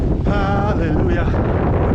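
Strong wind buffets a coastal clifftop, a steady loud rush and rumble across the microphone, with a voice faintly under it.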